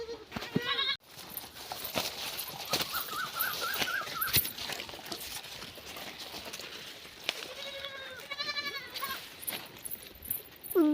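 Goats on a farm let out several wavering bleats, some close and loud and others softer, spread between quieter gaps filled with scattered movement and faint background noise.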